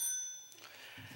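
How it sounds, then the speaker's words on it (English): A single bicycle bell rings once at the start as a timer signal in a council chamber, a bright metallic ding that fades over about half a second, followed by faint room noise and murmuring. "Can we have a demonstration of the bicycle bell?"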